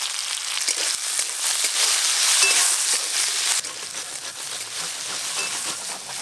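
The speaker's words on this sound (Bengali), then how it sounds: "থোড়েতে আলু দেব, আলুগুলো আমি ডুমো ডুমো করে কেটে নিয়েছি, খুব ভালো করে ভেজে নেব" Diced potatoes with banana stem fry in mustard oil with turmeric and salt, making a loud, steady, close sizzle that dips slightly partway through and carries faint stirring ticks, with no voices.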